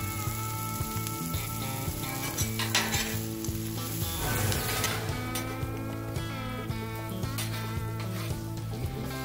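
Chopped onion and bacon with a little butter sizzle steadily on a hot flat top griddle, a dense continuous fry with occasional scraping and stirring close by, no talk.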